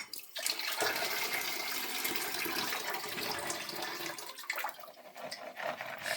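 Water pours out of a cooking pot of boiled peas as it is drained into a sink, a steady close rushing splash that runs continuously and tapers slightly near the end.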